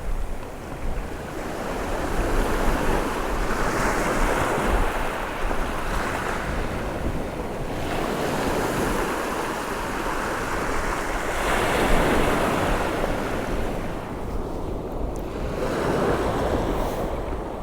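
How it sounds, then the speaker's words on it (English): Steady wind of about five or six knots blows across an East Coast UK beach by the sea, a continuous rushing roar mixed with breaking surf, rising and falling in gusts with no voices. "the wind has got up to about 5 or 6 knots now"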